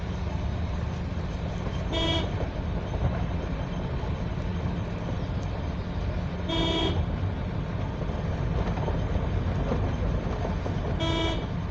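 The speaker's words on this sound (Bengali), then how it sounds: "এত হরন দেওয়ার দরকার নাই তো" Car horn honking during a driving lesson, three short toots spaced several seconds apart over a constant loud engine and road rumble inside the car, with no talking.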